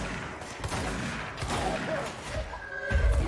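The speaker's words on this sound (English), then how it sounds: "they're just shooting rockets left and right at me" Enemy rocket fire and explosions in the video game Control, a busy barrage of blasts and impacts with a heavy boom near the end, loud and continuous.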